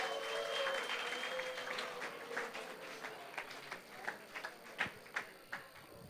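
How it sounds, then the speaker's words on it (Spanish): An audience at a university conference claps loudly and steadily at first, then thins into scattered individual claps before dying away. No voices are heard. "Un aplauso para el tocayo."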